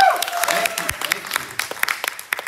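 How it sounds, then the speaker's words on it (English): Audience at a festival talk applauds, scattered, uneven claps that start dense and thin out into sparse individual hand claps, with a voice speaking over the start. "I need a little clapping, a little noise here"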